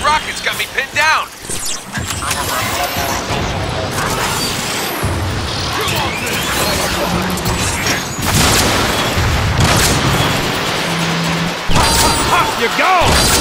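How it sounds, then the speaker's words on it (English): Rocket explosions rumble in an action-movie battle, with a dense, continuous barrage of booms, crashes and mechanical clatter lasting throughout, several heavier blasts standing out, and a voice talking over the chaos. "These rockets got me pinned down."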